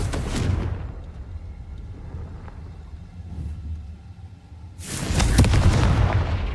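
In Hogwarts Legacy, the Confringo fire spell lands as loud booming explosions with deep rumble: one burst at the start, a quieter rumbling stretch, then a second big blast near the end that roars on.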